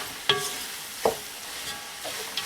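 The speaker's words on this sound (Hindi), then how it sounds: "इसको हम अच्छी तरह मिक्स करेंगे ताकि जो नट्स हैं वो इंटायरली जो दूध और अंडे से जो हलवा बना हुआ है उसके अंदर में हम इसको मिक्स कर लें" A spoon scrapes through a thick pecan and walnut halwa made with milk and eggs, giving a few distinct stirring strokes roughly a second apart over a low sizzle, close and with no talking.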